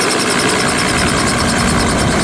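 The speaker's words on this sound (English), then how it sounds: "sunset helicopter flight over Honolulu" A steady, loud helicopter engine drones throughout a sunset tour flight over Honolulu, with a continuous rotor whine and low rumble and no break.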